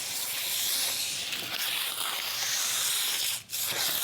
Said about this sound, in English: the next step is sanding